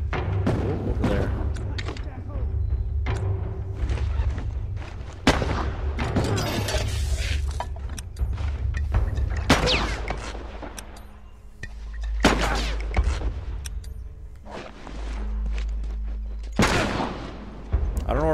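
Gunfire aimed at the player in the video game The Last of Us: repeated sharp shots and heavier booming bursts in irregular volleys, some close and loud, with a voice speaking at times.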